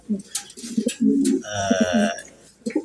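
A female Mundian pigeon gives a close, low, throaty coo, a few rolling notes in short bursts, with soft rustling around it.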